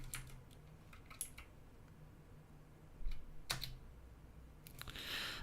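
Keystrokes on a computer keyboard sound as scattered sharp clicks in short bursts, fairly faint against a quiet room, with a cluster of louder taps near the end.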